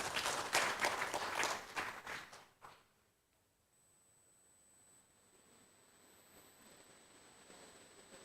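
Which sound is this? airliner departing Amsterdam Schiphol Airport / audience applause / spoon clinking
audience applause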